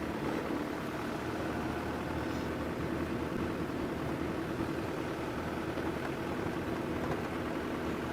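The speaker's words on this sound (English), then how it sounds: "This is a very loud diesel car, so it sounds somewhat like a tractor." A loud diesel safari vehicle idles steadily at close range, a dense, unbroken low rumble with a rough, tractor-like throb that holds constant without any revving.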